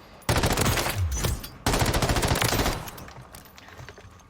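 Mounted machine gun fire in the video game Warzone: two long, loud sustained bursts of rapid automatic shots, nearly continuous, separated by a brief gap, then a fainter tail of scattered shots and ambient game noise.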